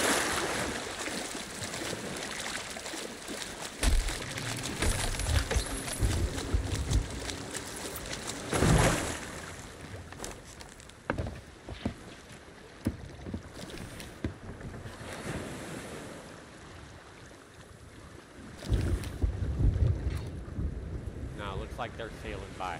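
A ship sails across open sea in Sea of Thieves, with a steady wash of waves and wind rushing past the hull and a few louder splashes and surges along the way. A voice can be heard faintly at points.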